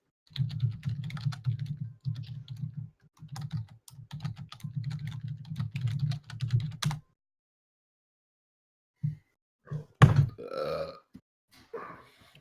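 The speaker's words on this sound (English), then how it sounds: "Hold on, let me type it." Keyboard typing in short bursts over a steady low hum, stopping partway through, followed by a few scattered bumps and clicks near the end.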